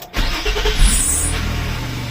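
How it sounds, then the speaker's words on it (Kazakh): A Nissan Maxima A32 (Cefiro) engine cranks briefly and catches, then settles into a steady, loud idle close by, with a faint high whine riding over the running engine. "Енді машинаны оталдырамыз"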